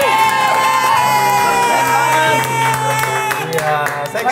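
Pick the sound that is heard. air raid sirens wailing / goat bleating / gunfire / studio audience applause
studio audience applause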